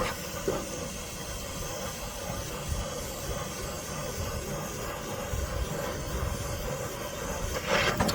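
A torch heats an exhaust tip, burning off rubber, grease, dirt and rust with a steady, loud hissing roar that runs unbroken and rises briefly near the end.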